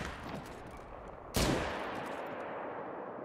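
A single sharp hunting-rifle gunshot rings out in a hunting video game, a loud close report that cuts through a steady ambient background and trails off, with no talking.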